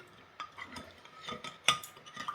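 A utensil stirs garlic bok choy in a pan, giving soft scraping and light clinks in irregular strokes, fairly quiet and close, with no talk over it.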